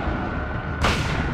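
A sawed-off double-barrel shotgun fires once in the Silent Hill video game, a sharp loud blast that cuts abruptly over a low, rumbling ambient drone.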